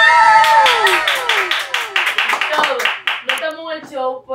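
A group of people clap their hands in a quick, steady burst of sharp claps, close and fairly loud, with voices rising and falling over them.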